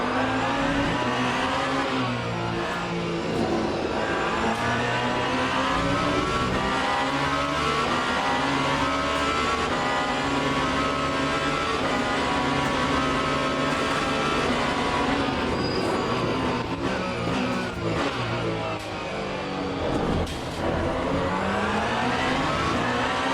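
A BMW race car in Le Mans Ultimate drones loudly and steadily, the engine note rising and falling through gear changes, with other cars running close by and no voices over it.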